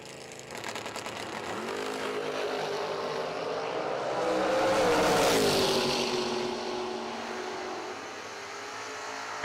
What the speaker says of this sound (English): Good drag race.